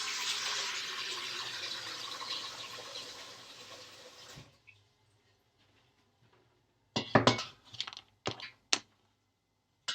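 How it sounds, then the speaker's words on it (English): Water pours steadily into a pot for a few seconds, the rushing sound tapering off, followed by silence and then a few sharp clicks and knocks. "I'm just going to add water here."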